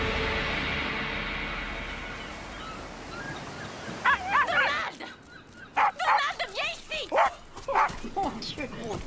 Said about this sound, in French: t'es un vilain chien